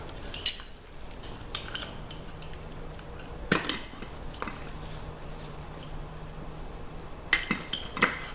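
Grain shaken and stirred inside a glass jar for mycelium culture, bursts of rattling and clinking spread across the stretch with quieter gaps between them, close and without speech.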